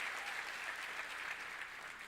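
A church congregation claps in a continuous but faint spread of applause that fades slightly toward the end, with no voices on top.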